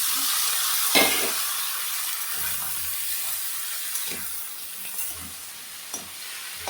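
Continuous hiss of crab pieces frying in a pan, with a few soft knocks and stirring clatters at intervals, no talking.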